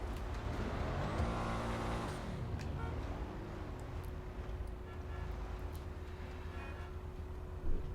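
In GTA, a car's engine roars and shifts through rising revs in the opening seconds, then eases into a steady droning hum with a faint constant whine.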